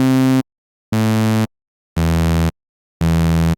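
Four bright, buzzy Serum synth tones, a saw-wave oscillator raised an octave, sound in turn, each held for about half a second and separated by short silences, with the pitch changing between them.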